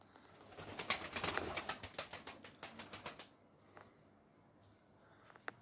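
Young blue tumbler pigeon flying overhead, a burst of rapid wing claps and flapping close by that tapers off into quiet, with a few faint later flutters.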